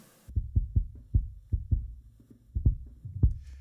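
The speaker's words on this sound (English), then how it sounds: "this nice little sort of sub, like 50, 60 hertz kind of impact" Filtered sub kick drum centered around its low fundamental in a drum mix, a series of deep, rounded thumping impacts in an uneven pattern, close and heavy with little else around them.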